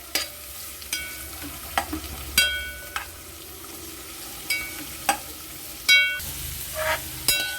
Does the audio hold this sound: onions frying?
yes